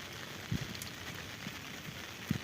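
Heavy rain hisses faintly and evenly near a river during flooding, with a couple of soft low thumps and drips. No voices are heard.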